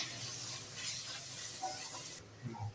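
Onions sautéing with mint and coriander paste for mutton biryani give a steady, moderately loud sizzle and hiss that cuts off sharply near the end, followed by a few faint stirring clatters.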